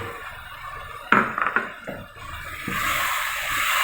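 Yogurt masala is stirred and fried in a cooking pot for beef paya, with a spoon clanking against metal several times and a rising steady sizzle behind it.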